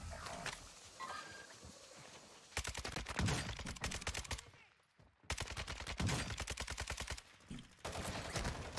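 Warzone 2 gunfight on Ashika Island: loud, sustained rapid automatic gunfire in long bursts, broken by a brief lull before the firing resumes just as hard.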